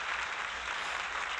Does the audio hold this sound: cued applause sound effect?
yes